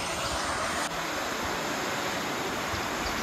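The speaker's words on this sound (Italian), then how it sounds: "Arriva questa cascata" An Icelandic waterfall giving a loud, steady broadband roar of falling water, unbroken and close throughout, with no voices.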